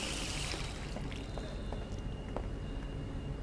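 Water runs steadily from a jacuzzi tap in The Darkness II, a continuous pouring, hissing rush at moderate level with a few faint clicks over it.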